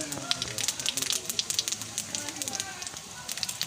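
Cumin and bay leaf crackle in hot mustard oil, heated over a wood fire while cooking duck meat, a close, busy sizzle with sharp popping crackles under a speaking voice.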